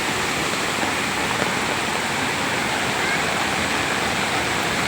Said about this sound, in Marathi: हा असा वॉटरफॉल आहे